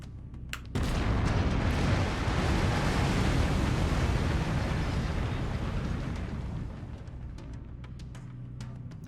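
An autocannon fires in the MechWarrior 5: Mercenaries video game as a loud, sustained, booming barrage that starts abruptly and rumbles on for several seconds before fading, with no speech.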